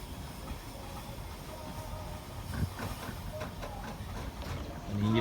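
A train passes at Ton Samrong station in Thailand, rumbling and hissing steadily in the distance, with a few faint rhythmic clacks and a brief low horn-like tone near the end.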